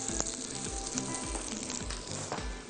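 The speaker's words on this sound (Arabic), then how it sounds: "عايزة اكرمل بصل، فهحط كده شوية بصل صغننين متقطعين رفيع" Thinly sliced small onions frying in a pan to caramelize give a steady, close sizzle with faint crackles and occasional stirring scrapes, no voices.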